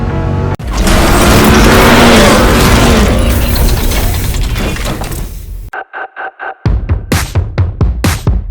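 A truck fitted with a Whipple supercharger at wide open throttle, a loud, roaring surge that fades, then gives way to a run of short, choppy bursts near the end.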